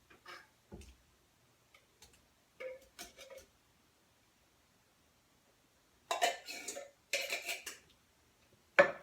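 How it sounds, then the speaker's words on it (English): A knife clinks and taps against a can and baking dish while canned peaches are tossed into cobbler batter, scattered short metallic knocks with quiet gaps between them, then a louder cluster of clatters near the end. "So I'm just going to use my knife here to toss the peaches from the can into the batter."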